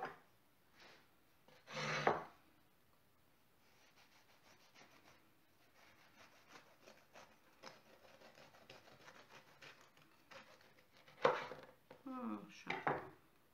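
A knife slicing through chocolate and cherry muffins in a home kitchen, giving a few scraping, rubbing cuts with louder sharp strokes near the start and end, close up and with no talking.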